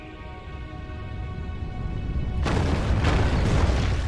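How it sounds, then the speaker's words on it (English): Onager catapults in the game Rome Total War fire a volley: a deep, booming burst breaks in sharply after a steady battlefield hum and keeps rumbling, loud and close. "Onagers, you're doing good so far. One more volley, and then I'm having you cease fire."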